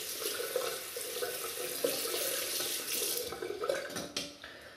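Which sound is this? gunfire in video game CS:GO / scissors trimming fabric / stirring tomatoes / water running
water running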